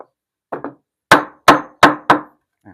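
On a knock-down bed frame with drawers, a mallet drives snug wooden dowels into the joints: two soft taps, then four loud, crisp wooden whacks in quick succession, close up and alone.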